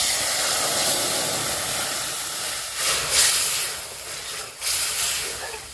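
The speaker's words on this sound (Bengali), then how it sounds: "এবার টমেটোর জুসটা দিয়ে দেব।" Tomato juice sizzles as it hits very hot mustard oil in a wok, a loud, broad hiss that starts strong and fades gradually, with a couple of brief bursts as the liquid stirs.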